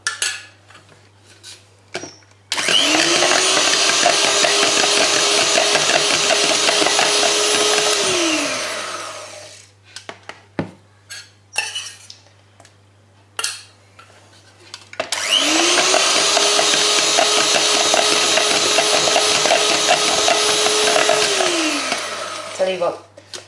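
Electric mixer whirring loudly as it beats facial moisturiser gel, running steadily for about seven seconds, stopping, then starting again for another long run, with scattered clinks and handling noises in the pauses.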